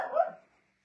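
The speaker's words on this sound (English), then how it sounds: "Whoever's barking, knock it off." A single short dog bark sounds close and fairly loud, then fades into quiet.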